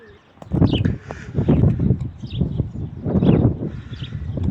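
Pigeons coo in a pigeon loft, their low, throaty calls repeating close by in soft rolling bursts, with a few faint chirps and rustles mixed in.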